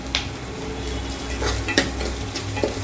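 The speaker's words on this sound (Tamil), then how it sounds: "கொஞ்சம் வெங்காயம் நல்லா கொஞ்சம் வதங்குற வரைக்கும் கொஞ்சம் நல்லா வதக்கிக்கலாம்." Onions sauté with salt in a pan for a Tamil fish curry, with a soft continuous sizzle broken by scraping stirs and occasional utensil clinks against the pan.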